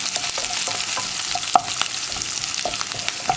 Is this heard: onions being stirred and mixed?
yes